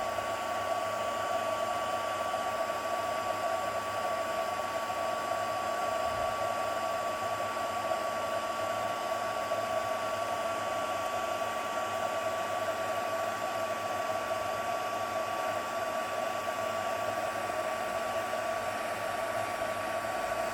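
A heat dryer blows steadily on aged cardboard foliage, a constant whirring, hissing drone with a high tone running unbroken from start to finish, close and with no talk.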